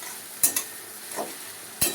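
Capsicum frying in a pan is stirred with a few sharp scraping strokes of a spoon against the metal, over a faint background sizzle, close and quiet with no voices.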